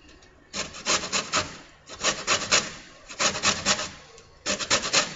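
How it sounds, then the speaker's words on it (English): Orange zest grated on a hand grater in a home kitchen, heard as close, loud bursts of rhythmic rasping strokes, several quick scrapes per burst, with short pauses between four separate runs. "You're going to grate your orange zest, as I've done here, and your lemon zest at this point."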